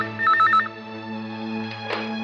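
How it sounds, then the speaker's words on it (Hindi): Telephone ringing in a horror show scene, a bright electronic trill near the start followed by sustained ringing tones over a low hum, close and clear with no talk. "हाँ, एक मिनट, फोन आया।"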